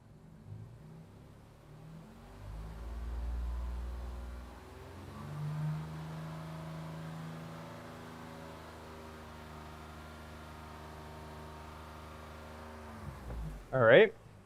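A car engine revs up and then holds a steady speed around 3,000 RPM, its mid-pitched drone rising then sustained close by, ending with a brief clatter.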